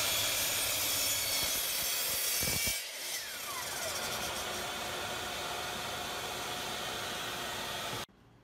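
A saw crosscuts wood pieces to length while building all-wood deep-reach C clamps, a steady loud rasping that dips briefly midway, then runs continuously before stopping abruptly near the end, with no talking.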